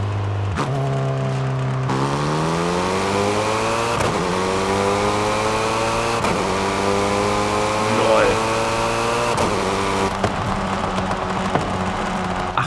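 A tuned Hyundai Elantra in Forza Horizon 5 growls and revs steadily through its exhaust, pitch climbing in several surges as it accelerates, heard close and loud throughout with someone talking over it.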